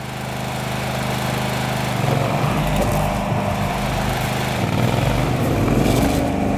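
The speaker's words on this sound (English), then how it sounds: "Once the Chiemsee range pumps have started working" An SHG Mini Chiemsee flood water pump, a 230-volt household-powered unit, runs steadily with a loud continuous motor drone and a buzzy mechanical hum that holds throughout, no voices.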